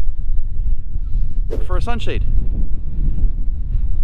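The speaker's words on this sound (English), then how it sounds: "It is extremely windy here, gusts of 25 miles an hour." Heavy wind gusting around 25 mph buffets the microphone in a constant low rumble, with a brief spoken phrase heard through it.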